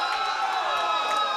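A crowd at a rap battle event cheers and whoops in a short, dense burst of shouting voices that fills the whole moment.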